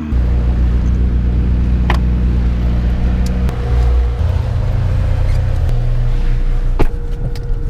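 McLaren 675LT on a warm-up lap of the Nürburgring Nordschleife, heard from inside as a steady, loud engine drone with rumbling low harmonics that shift in pitch partway through, with a few brief knocks and no talking.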